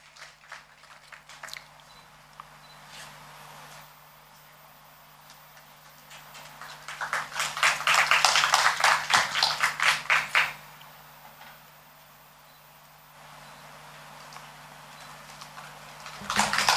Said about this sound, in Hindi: आप सभी तालियों के साथ उनका स्वागत कीजिए।